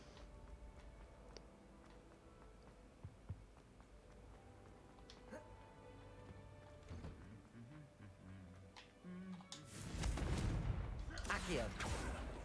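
In the video game Hogwarts Legacy, the Confringo fire spell is cast with a sudden loud fiery whoosh and blast late in the clip. Softer game ambience and small clicks come before it.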